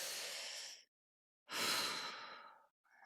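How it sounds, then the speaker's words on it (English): Deep, audible breath during a relaxation hypnosis session: a long breathy sigh, a brief pause, then another fuller exhale, close and clear with no talking. "take a nice, deep letting go breath"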